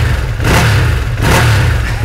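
A Ducati Streetfighter V2 motorcycle engine idles and rises in two short revs, a steady throbbing rumble swelling and falling back, loud and close.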